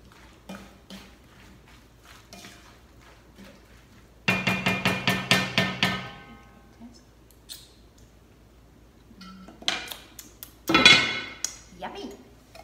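A spoon stirs orange jam in a pot, with bursts of rapid rhythmic clinks and scrapes against the metal between quieter pauses, and a sharper clatter near the end.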